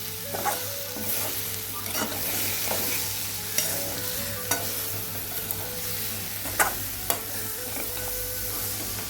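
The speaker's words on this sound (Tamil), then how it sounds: "இப்போ இந்த போட்ட சீனியை இந்த அம்பரலங்காயோடு சேர்த்து நல்லா ஒருக்கா கலந்து விடுவோம்" Ambarella fruit and sugar being stirred together in a pan for a Sinhala-style curry, with continuous soft sizzling and frequent sharp scrapes and taps of a spoon against the pan.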